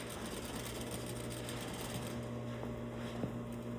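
A sewing machine runs a long basting stitch down a seam for a lapped zipper, giving a steady, quiet motor hum and rapid needle patter throughout, with no one speaking.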